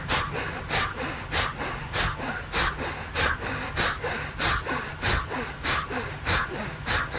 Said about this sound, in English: we're going to do the breath of fire again